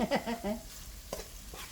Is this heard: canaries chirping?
no